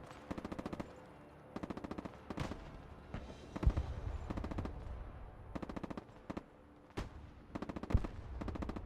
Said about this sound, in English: Good artillery hits.